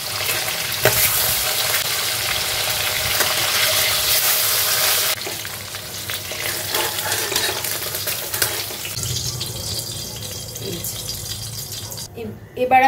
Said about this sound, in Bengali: মাছটা একদম হালকা ভাজবো।